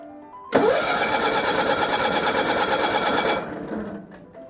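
A Bolens HT20 garden tractor engine cranks and catches, runs for about three seconds with a buzzy, rapid putter, then cuts off abruptly, close and fairly loud.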